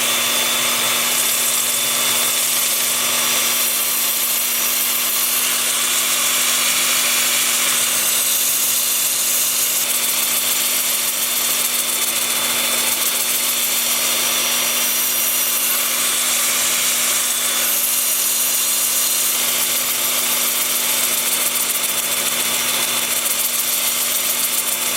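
A wood lathe spins a turned workpiece in reverse at about 400 RPM, giving a steady, continuous mechanical hum with a constant low tone and faint scraping texture throughout, with no speech.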